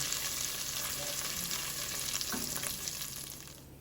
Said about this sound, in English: Stir that around. Mix the tomato paste in with the oil.